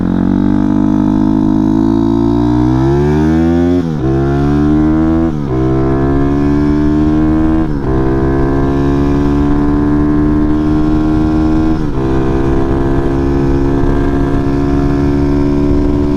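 A Grom clone motorcycle with a 212cc Daytona engine and loop exhaust runs loudly and steadily, revving up and dropping back in several repeated pulls like gear changes, close and alone.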